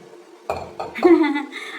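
Dishes and pots knock and clink in a kitchen sink during washing, a few sharp clatters at close range while someone speaks.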